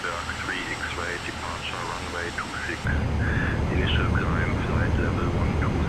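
The engines of a G2 Vision Jet run up to full power in Microsoft Flight Simulator 2024, a steady broadband roar that steps louder midway, with radio-style chatter and voices talking over it throughout.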